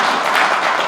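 A brief burst of audience applause after a trailer is shown at a literary event in Raipur, loud close clapping lasting about a second.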